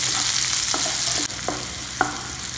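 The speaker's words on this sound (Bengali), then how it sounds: "পেঁয়াজটাকে আমি হালকা ফ্রাই করে নেব 1 মিনিট মতো" Chopped onion fries lightly in oil with a loud, close, continuous sizzle, broken by a few short scraping strokes of a spatula as it is stirred; no voices.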